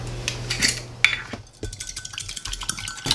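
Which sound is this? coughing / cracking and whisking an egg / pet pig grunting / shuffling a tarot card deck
cracking and whisking an egg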